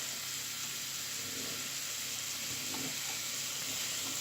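Food frying in a pan gives off a steady, close sizzle and hiss throughout, with no talking.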